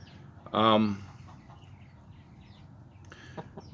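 A broody leghorn-cross hen lets out a loud, brief cluck close by, followed by a quieter second call a few seconds later over a soft background.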